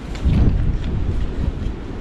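Strong wind gusts outdoors on a very windy day, buffeting the microphone with a steady low roar and surges throughout, with no one speaking.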